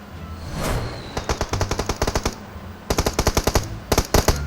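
Gunfire in the PUBG Mobile video game: rapid automatic bursts of crisp shots in several volleys, loud and close, after a brief whooshing swell at the start.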